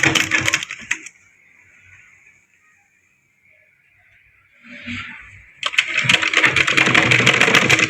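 An electric sewing machine stitching fabric runs in a fast, dense rattling burst, falls quiet for several seconds with only faint handling noise, then starts stitching again loudly and steadily.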